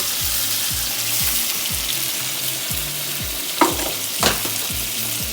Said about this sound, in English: Got some milk cooking over here.